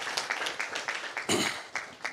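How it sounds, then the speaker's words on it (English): Applause from the audience at an academic public-private partnership forum, fairly close and continuous for a couple of seconds, with rhythmic claps rising and falling. "Can we give another round of applause?"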